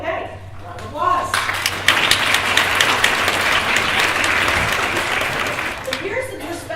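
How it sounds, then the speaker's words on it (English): Audience applause after a student introduces herself at a school event, a steady dense wash of clapping rising quickly and holding loud for several seconds before tapering off near the end. "Round of applause."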